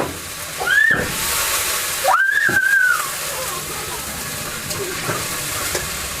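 A little water splashes into a hot pan of frying desi duck meat with ginger and turmeric, bursting into loud hissing steam and sizzle, with a brief squeaky scrape and stirring, while a voice speaks briefly.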